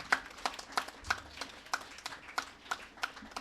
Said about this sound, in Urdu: تالیاں زوردار ہونی چاہیے.